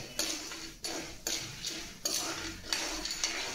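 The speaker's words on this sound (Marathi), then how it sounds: "आता ही मका आहे ना, हे तेलामध्ये टाकून घेऊ।" Corn kernels for stovetop popcorn are stirred in hot oil in a kadai, giving repeated metal scraping strokes over a soft frying sizzle, close and moderately loud, with no talking.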